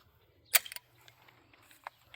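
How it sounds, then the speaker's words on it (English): An Enfield No.1 rifle is dry fired, giving one sharp, close metallic click followed by a few faint mechanical ticks in an otherwise quiet setting. "And then we're going to dry fire her real quick."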